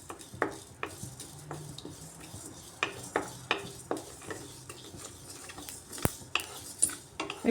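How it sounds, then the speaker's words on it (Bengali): Cumin, coriander, fennel and fenugreek fry lightly in a wok, heard as steady soft clinks and scrapes of a spatula stirring against the pan at a near, moderate level, with a faint sizzle underneath and no talking. "এটাকে কড়াইয়ের মধ্যে হালকা ফ্রাই করে নিচ্ছি"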